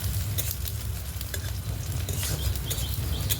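Chopped medium-sized onion frying in a pan for a besan dish, with steady close sizzling throughout and a few light scrapes and taps of a spoon stirring, no voices.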